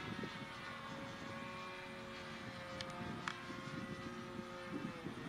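A Dynam Tucano RC model warbird airplane flies aerobatic manoeuvres, its electric motor and propeller holding a steady, moderately distant whining drone throughout.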